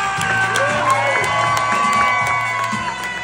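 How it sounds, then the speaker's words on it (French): A theatre crowd at a comedy tour show in Namur cheers, whoops and claps for the performer Sacha Ferrat, a loud lively roar with high shouts over it. "faites un tonnerre d'applaudissements pour Sacha Ferrat"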